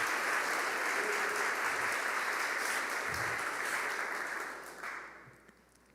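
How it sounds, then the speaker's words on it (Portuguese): A church congregation applauds in a sustained burst of clapping from many hands that holds steady, then fades out toward the end, followed by near silence. "Vamos dar uma salva de palmas para a irmã Tereza, pessoal?"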